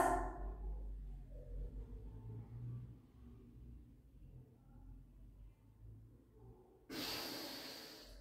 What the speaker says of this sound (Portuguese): Puxa o ar pelo nariz, exala.